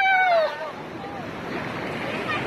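Ocean waves wash steadily on a beach during a summer outing, a continuous broad rushing surf that swells slightly near the end, with a high cry and voices briefly at the start.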